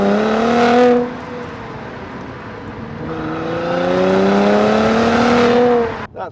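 A 2016 Mercedes-AMG C43 4MATIC with a 3.0-litre engine and automatic gearbox drones steadily while driving. The loud engine note rises and falls through smooth gear changes and cuts off abruptly at the end. No talking is heard.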